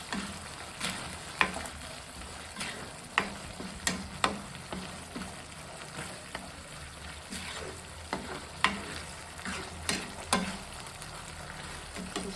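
Prawns in a Mangalore-style ghee roast stirred in a pan: steady sizzling and frying with irregular sharp scrapes and taps of the spoon against the pan, close up and without talk.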